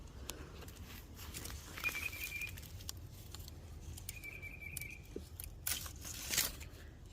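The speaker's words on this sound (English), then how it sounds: "Just cut the leaves off." Leaves being cut from a Hawaiian Ti plant with a few quiet snips and crisp leafy rustles, faint and close, spread irregularly through the stretch.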